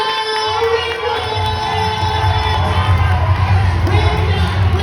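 A live audience at a motivational event in Nairobi cheers and shouts loudly, a dense, sustained roar of voices with clapping mixed in, close and energetic throughout.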